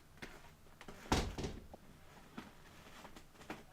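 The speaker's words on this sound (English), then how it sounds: "let's give me a second and shut a door." Someone shuts a door indoors: one muffled thud stands out briefly in an otherwise quiet room, followed by a few faint small knocks.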